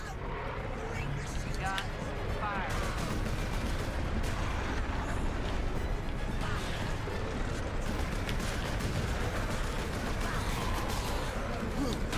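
Gunfire from the video game Space Marine comes as dense, continuous bursts and explosions under loud game action, with a person talking over it throughout.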